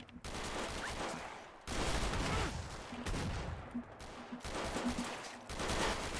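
Video game shotgun gunfire in rapid, heavy bursts, loud and close, separated by brief gaps.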